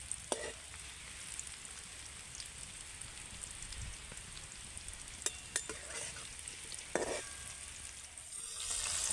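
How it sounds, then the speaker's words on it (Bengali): Okra frying in hot oil on a home stove gives a soft, steady sizzle and crackle at low level, with a few sharper clicks and clatters of utensils along the way. "এবার আমি এখান থেকে কিছুটা করে ঢ্যাঁড়স নেব আর তেলের মধ্যে ভেজে নেব"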